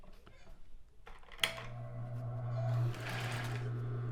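Household sewing machine stitching a medium zigzag seam on fabric, its steady motor hum starting after a sharp click and running continuously, loud and close, with a brief rise in pitch near the end.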